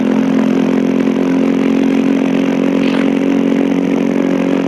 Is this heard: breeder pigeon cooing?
no